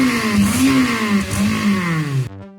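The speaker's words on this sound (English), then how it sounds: "The Corolla fired up on the first try." Toyota Corolla engine after a sludge cleanout with new fluids, coils and plugs, running up through rising and falling revs, loud and close, then cutting off abruptly.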